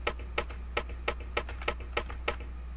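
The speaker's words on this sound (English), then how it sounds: "I will show you how to make footstep sounds like this." Footsteps of an Unreal Engine 4 game character, a steady run of about nine light, even taps spaced roughly a third of a second apart, close and clear over a low constant hum.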